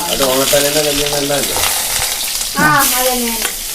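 Garlic, onion and green chillies fry in a pan with a loud, steady sizzle and crackle, and a person keeps talking over it.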